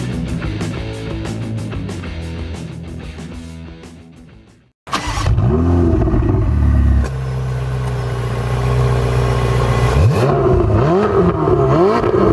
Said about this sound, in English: today we're driving Rob Ferretti's Ferrari 488 Spyder